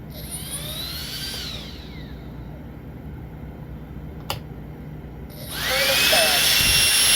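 An RC aircraft's electric motor is driven by its ESC, spinning up with a rising whine that drops away, falls quiet, then whines loud again. Someone speaks in between.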